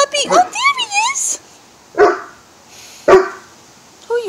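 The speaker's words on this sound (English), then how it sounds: "Who are you barking at?" A large Saint Bernard of about 230 lbs barks sharply three times, well spaced, close by, after a burst of yips and whimpering whines.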